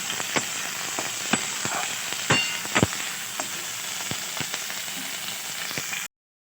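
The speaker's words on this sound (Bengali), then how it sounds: "এবার আমি পেঁয়াজগুলো আগে আর গোটা রসুনগুলো দিয়ে দেবো।" Onions and whole garlic cloves fry in a little oil, crackling with a steady close sizzle punctuated by sharp pops and spatters at irregular intervals, with no voices.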